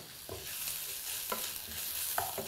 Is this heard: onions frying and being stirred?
yes